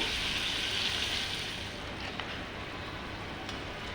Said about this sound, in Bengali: এখন আমি টাকি মাছটা প্রথমে বসিয়ে দিলাম টাকি মাছটা একটু ভোনা করে নিব